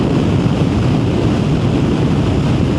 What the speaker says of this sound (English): When you hear the wind, it is windy as fuck